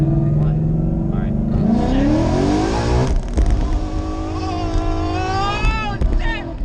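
Ford Mustang 5.0 with a manual gearbox revving hard and spinning its tires, a loud close engine roar climbing and falling with tire squeal, while people shout and talk over it.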